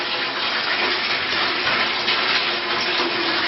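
Tap water gushes steadily into a hotel wastebasket, a loud, unbroken rushing and splashing that holds constant throughout, with no voices.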